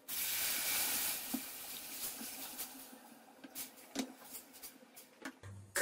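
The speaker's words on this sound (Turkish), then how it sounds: "Ve üzerine 2 su bardağı süt ekliyorum." Milk poured into a hot pan of béchamel sauce for a potato moussaka gives a loud, steady hissing sizzle that eases into softer bubbling and scattered wet squishes and clinks.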